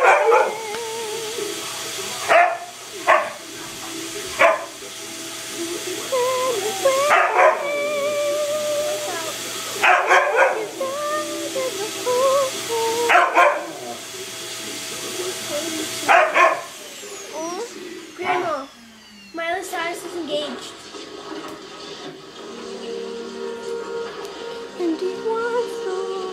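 A dog barks and yips repeatedly at a running vacuum cleaner, whose steady whining drone fills the background nearby, with whimpers and howl-like cries between bursts.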